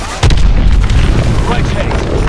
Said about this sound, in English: Lock onto those hard points and hit them with your missiles.